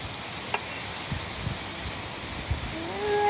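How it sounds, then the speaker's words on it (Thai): Strong wind blowing outdoors as a steady, broad rushing roar with low buffeting rumble, and a few brief knocks and faint tones near the end. "โอ้ยลม ลม แรง มากทุกคน"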